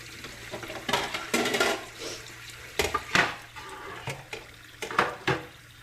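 Water runs and splashes in a sink while tilapia is rinsed and cleaned, with irregular bursts of pouring and handling, close by, with no talk.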